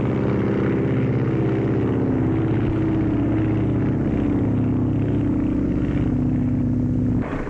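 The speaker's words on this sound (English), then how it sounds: "Captain Frank Hawks climbs aboard his Lockheed to set a new transcontinental mark." A Lockheed propeller airplane of about 1930 takes off with a steady, loud engine drone that holds unbroken for the whole stretch, then thins abruptly near the end; no voices.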